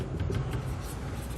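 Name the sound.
writing a definition on a board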